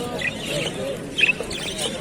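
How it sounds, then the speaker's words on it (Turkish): Canaries sing at an outdoor bird market, with short bright chirps and trills standing out now and then above a steady murmur of market noise. "Burada çok güzel kanaryalar var."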